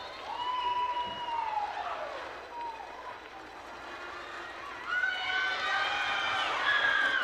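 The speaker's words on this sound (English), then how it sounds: "Can you hear all her friends and fans behind me just cheering her, their teammates on?" Friends and fans cheer a skater at a skills competition with high, rising shrieks and whoops. The cheering is lively and a little distant, and it swells again toward the end.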